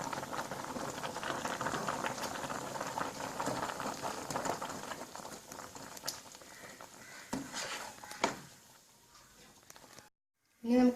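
Papaya buttermilk curry boiling in a pot, a steady close bubbling and patter that thins out toward the end, with a few knocks before it stops.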